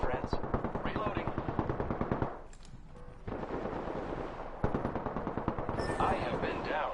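Rapid automatic gunfire in Apex Legends, bursts of fast repeated shots that break off briefly and resume, mixed with game sound effects and a player's voice.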